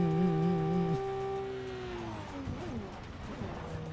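Car engine in Cyberpunk 2077 driving fast, a steady high-pitched whine that drops and shifts partway through, joined by rumbling road noise and scattered thumps, fairly loud and continuous.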